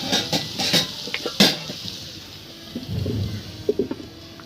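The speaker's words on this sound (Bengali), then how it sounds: "ভাজিটা নেড়ে দিই।" Bitter gourd fry being stirred in a pan, a run of clinking, scraping utensil strokes against the pan followed by softer sizzling and a few light taps, close by.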